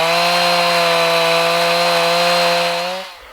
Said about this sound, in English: busy chainsawing up firewood